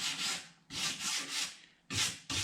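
A stainless steel wire brush scrubs along the grain of 80-year-old timber in repeated rasping strokes, each a bright scratchy sweep with short gaps between, close and moderately loud.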